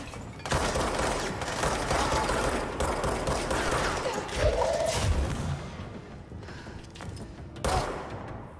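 Gunfire in the video game Control, a dense run of sharp shots and bursts with a booming hit near the middle, loud and continuous against game ambience.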